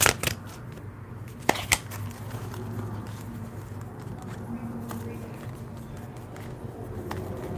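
A deck of tarot cards is shuffled by hand, a soft continuous papery patter with a few sharp snapping riffles near the start, close and fairly quiet throughout.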